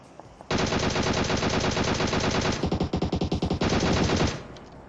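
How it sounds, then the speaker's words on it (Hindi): Sustained automatic gunfire from a PUBG Mobile battle, loud and close, with rapid continuous bursts that briefly break into separated shots before resuming and then cutting off. "तब तक गोली चलेगी जब तक पेटी ना बन जाए"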